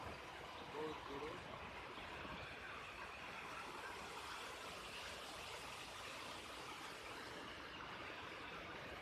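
A stream flows near a village with a steady, distant-sounding rushing wash that stays even and continuous throughout, with no voices.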